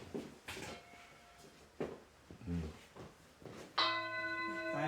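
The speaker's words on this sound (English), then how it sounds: "I bang this bowl" A bowl struck once, ringing out with a clear, sustained metallic tone near the end, preceded by quiet handling knocks and rustles.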